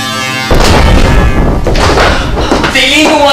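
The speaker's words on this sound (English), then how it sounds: "The Evil One's cannon is mighty!" A cannon fires: a sudden deep boom bursts out after a low hum, followed by rumbling debris and a lingering roar; loud and close.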